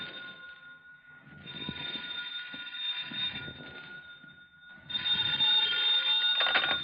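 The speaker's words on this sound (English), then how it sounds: "Then the phone rang." An old telephone rings in a home during a 1950s-style radio noir drama, sounding as two long, buzzy ringing bursts separated by a short pause, with the second burst louder.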